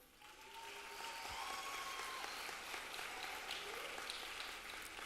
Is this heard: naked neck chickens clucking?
no